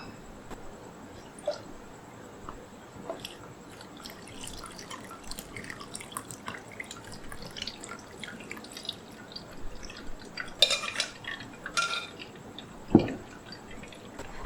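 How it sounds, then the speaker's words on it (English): Homemade vegan fish-sauce substitute strained through a mesh filter: faint, irregular dripping and trickling under a low background hiss, with a couple of sharper splashes near the end, no speech. "I'm gonna strain into the mesh filter"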